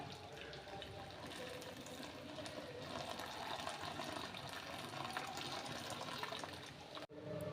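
Warm sugar syrup is strained and poured into fruit kuzhi paniyaram batter, a soft, continuous trickling pour heard faintly and alone for several seconds before stopping.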